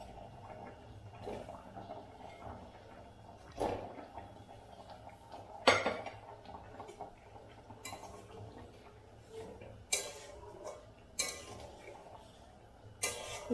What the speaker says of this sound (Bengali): কোপ্তাগুলো দিয়ে দিচ্ছি